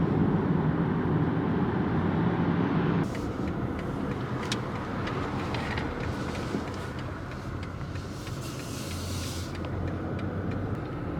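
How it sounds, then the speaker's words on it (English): A car drives in rainy weather with a continuous rumble of engine and road noise, fairly loud and close, and a brief shift in tone partway through. "And here is our little car"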